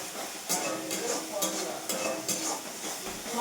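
Spices sizzling in a pan while being stirred, with regular scraping strokes about twice a second over a constant close frying hiss.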